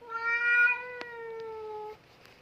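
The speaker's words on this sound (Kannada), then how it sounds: "ಬೀದಿ ಬೆಕ್ಕುಗಳು ಇವು, ಅಂದರೆ ಸ್ಟ್ರೀಟ್ ಕ್ಯಾಟ್ಗಳು ಎಲ್ಲ ಕಡೆ ಓಡಾಡ್ತವೆ" A street cat roaming around an apartment complex meows one loud, drawn-out, tonal cry that fades near the end, heard close and clear with little background noise.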